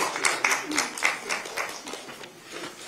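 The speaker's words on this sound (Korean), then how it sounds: "큰 박수 부탁드립니다." Audience clapping at a Korean political party event, a scattered patter of hand claps with irregular sharp hits that thins out toward the end, fairly close and unaccompanied by speech.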